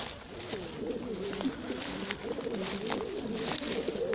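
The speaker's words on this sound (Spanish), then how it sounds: "aquí está la paloma, aquí está el dogo" Pigeons cooing in a pigeon loft in El Bojal, Murcia, a close, continuous series of low rolling coos from several birds over a light background hiss.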